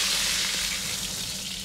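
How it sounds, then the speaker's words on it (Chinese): Carp sizzling in a hot pan as its skin fries golden, giving a steady, close, continuous crackle and hiss with no one speaking. "翻面再继续煎至一分钟，煎至鱼皮表面焦黄出香味即可捞出"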